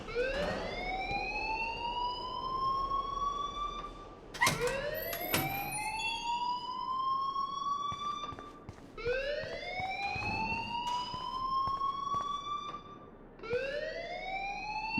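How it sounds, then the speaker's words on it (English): In a video game, an electronic alarm repeatedly whoops upward in rising sweeps, about four cycles separated by short gaps, steady and moderately loud with no talking. "please turn off that alarm since that's your job"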